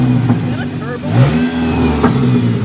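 A car engine revs up and settles after an exhaust repair that removed a rasp, rising and falling close by while people talk over it.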